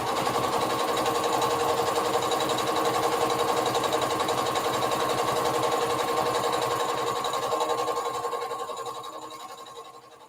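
A sewing machine stitches a circle dress in a steady, fast, even run for most of the stretch, then winds down and slows near the end; no one talks over it.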